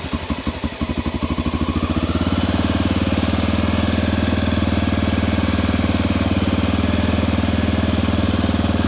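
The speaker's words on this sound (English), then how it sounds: "This is a carbureted motorcycle, but we'll pull the choke, give it a little gas," A 1988 Honda NX650 carbureted motorcycle starts cold on choke: a few uneven sputtering firing pulses, then the single-cylinder engine settles into a steady, loud, rapid thumping idle up close.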